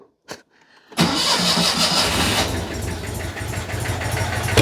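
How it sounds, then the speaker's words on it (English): Car engine cranks after a faint click, then catches with a loud backfire through a petrol-fume-filled exhaust and settles into a rough, steady running note up close. "That's an exhaust full of petrol fumes there. Hence the rather alarming backfire."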